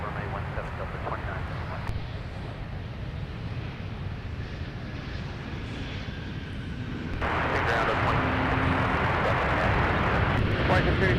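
A Delta Airlines jet, Flight 1047 from Phoenix, arrives at Minneapolis–St. Paul airport with a steady engine roar that grows noticeably louder partway through, while voices talk over it.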